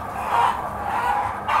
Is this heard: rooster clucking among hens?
yes